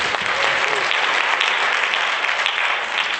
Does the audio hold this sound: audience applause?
yes